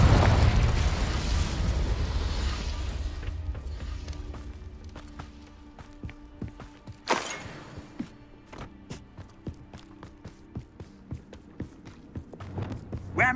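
Incendio and Confringo spells cast in Hogwarts Legacy, a roaring fiery burst fading away, then a sharp explosive crack, followed by scattered clicks, pops and faint mechanical game sounds.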